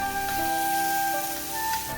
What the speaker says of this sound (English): Stir fry the meat to let the dark color get into the meat so that it's nicely colored